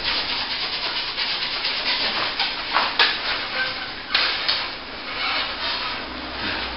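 A steel trowel scrapes excess plaster top coat off a plasterboard repair in steady, rasping strokes, close and fairly loud, with a few sharper knocks where the blade catches.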